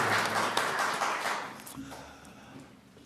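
Audience applause at an annual choir concert, broad clapping that starts full and gradually thins and fades, with a voice briefly heard over the tail.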